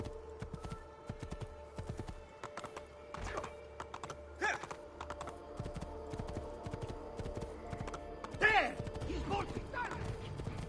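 Hooves of a horse clip-clop at a steady gallop in Assassin's Creed II, a rapid drumming rhythm that carries through the whole stretch, with a brief whinny-like burst midway and game sounds layered underneath.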